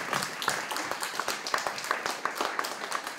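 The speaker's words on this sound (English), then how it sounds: "Please give yourselves a round of applause for everything that you guys have put into it." A small crowd claps at a museum ribbon cutting for an environmental museum, uneven hand claps forming a light, scattered round of applause that carries on steadily throughout.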